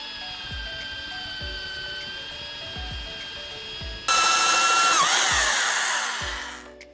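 A power drill whines steadily, then a hole saw bites into plywood with a loud, harsh rasping roar that winds down and stops.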